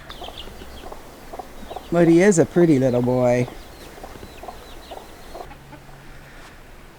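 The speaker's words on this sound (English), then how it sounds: "Still don't know what I'm going to do with this other black silky rooster." A black silkie rooster clucks and calls in a short, loud burst of strained, tonal vocalizing, up close over quiet outdoor background; someone speaks briefly nearby.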